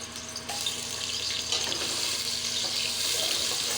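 Ginger dropped into a pan of coconut milk with chili, onion and garlic for a Filipino dish, giving a steady, close frying sizzle that runs throughout with no one talking.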